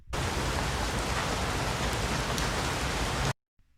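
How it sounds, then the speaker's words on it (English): Steady rain falls heavily as a dense, even hiss of drops on surfaces, close and continuous, then cuts off abruptly into near silence. "standing in the rain,"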